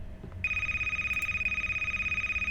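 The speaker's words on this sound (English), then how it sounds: "I hear a phone ringing." A telephone rings in a video game, a steady electronic trill that starts abruptly and repeats in a fast, even pulse, clear and close, over a low rumbling background hum.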